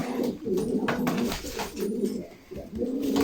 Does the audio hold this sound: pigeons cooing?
yes